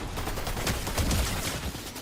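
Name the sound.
gunfire from an SMG in a battle royale video game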